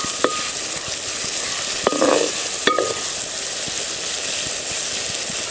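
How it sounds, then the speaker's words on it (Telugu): Onions fry in hot oil for a fish curry, giving a steady close sizzle, with a few clinks and scrapes of a spoon stirring the pan. No one speaks. "ఉల్లిగడ్డ వేసుకుందాం. బాగా కలుపుకొని వదిలేద్దామండి."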